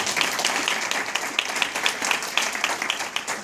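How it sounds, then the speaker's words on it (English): Conference audience at a blockchain event claps in dense, sustained applause, a steady crowd of hands heard near and fairly loud throughout. "how about a round of applause for yourselves for making it this long"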